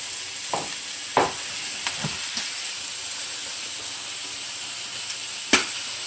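Onion, mushrooms and garlic frying in a home kitchen pan, giving a steady close sizzle with a few scraping stir strokes and clanks scattered through.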